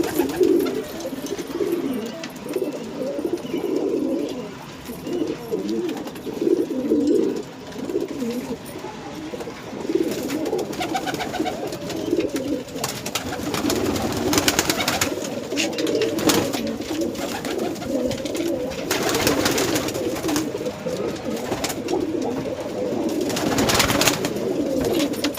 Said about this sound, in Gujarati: હવે બધા કબૂતરે ખાઈ પી લીધું છે